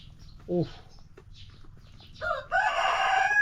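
Chickens on a farm, with a short cluck early on, then a rooster crowing loudly near the end, over a faint background with a voice talking.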